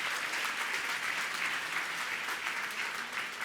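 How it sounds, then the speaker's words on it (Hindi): An audience at a religious discourse gathering in Gunayatan, Shikharji gives loud, sustained applause, a thick even roar of many clapping hands with no speech over it. "एक बार जोरदार तालियों से"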